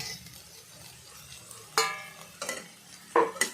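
Eggplant pieces stirred into frying fenugreek greens in a pan give a soft low sizzle broken by a few sharp scrapes of a spatula, spaced irregularly and close by.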